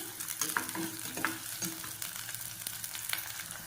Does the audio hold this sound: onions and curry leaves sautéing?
yes